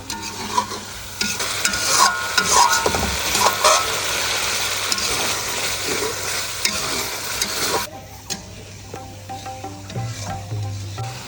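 Shrimp frying and being stirred in a pan: a loud, dense sizzle with scraping spatula strokes running continuously, then easing to a quieter simmer toward the end.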